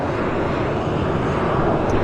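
A jet airliner's engines roar steadily at Vancouver airport during an engine run-up, a loud, continuous broadband rumble that holds level throughout with no voices.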